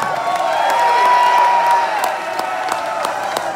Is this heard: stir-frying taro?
no